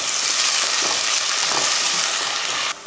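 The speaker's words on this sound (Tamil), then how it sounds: "ஒரு வெங்காயம் போடுறதுக்கு முன்னாடி பட்டை, கிராம்பு, ஏலக்காயெல்லாம் போட்டு தாளிப்போம்" Cinnamon, cloves, cardamom, star anise, bay leaf and onion frying in hot oil for a Tamil lunch-box rice dish give a loud, steady, close sizzle that cuts off abruptly near the end.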